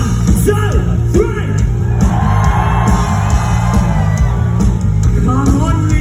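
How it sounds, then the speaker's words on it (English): A packed concert crowd at a rock show in Leeds in 2023 screams and yells at full volume on a countdown, a dense, continuous roar with whoops rising out of it and a shouting voice over the top. "after 3, we want you to scream as loud as you can"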